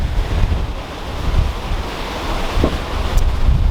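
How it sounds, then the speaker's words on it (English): Strong 25 to 30 knot wind roars across the microphone over rough, breaking sea while a reefed yacht crabs across the waves off Australia, a steady loud wash with no talk. "Regretting this, not a nice sea. We got 25 to 30 knots."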